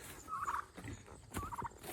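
Two short turkey gobbles come from a farm flock. They sound faint and distant against a soft noisy background, with a pause between them.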